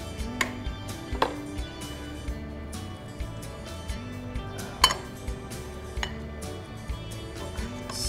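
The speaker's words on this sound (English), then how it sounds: "Let's ladle in some of our soup." BLT soup of bacon and tomato with braised greens is ladled from a pot into a bowl, with scattered metallic clinks and scrapes of ladle against pot and dish over a quiet kitchen background.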